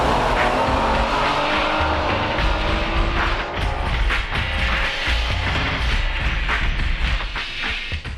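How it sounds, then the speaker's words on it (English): A Honda Type-R race car on optional larger-diameter tires runs a time attack at Suzuka circuit. The engine roars loudly and steadily as it climbs through the gears, with bursts of tire squeal on the corners and no one speaking. "Now let's see a time attack, uncut, using optional larger diameter tires at Suzuka circuit."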